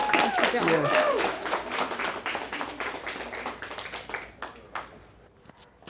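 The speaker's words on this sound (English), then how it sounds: "let's give a big warm cheer for Dr. Brittany Sanders" An audience at an awards show claps and cheers for an honoree. The applause is strong at first and gradually thins out, with voices calling out over the clapping.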